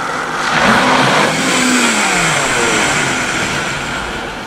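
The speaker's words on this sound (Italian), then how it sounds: "Adesso ti faccio vedere questo Vitamix. Questo è un frullatore un po' potente," A powerful Vitamix blender whirs loudly and steadily while blending pumpkin soup, its motor holding a sustained roar that eases off slightly near the end, with no voices.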